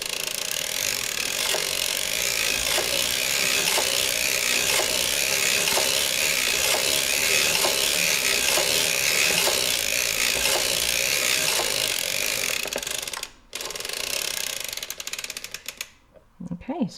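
A circular sock knitting machine is hand-cranked in a steady, even rhythm of mechanical ratcheting clicks that carries on for most of the stretch before stopping abruptly, leaving a few scattered handling knocks at the end.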